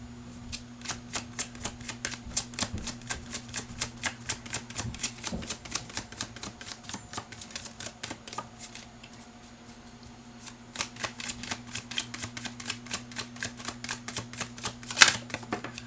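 Tarot cards being shuffled in a steady run of crisp, rapid riffling clicks, close and fairly loud, pausing briefly midway before resuming, with a low steady hum underneath.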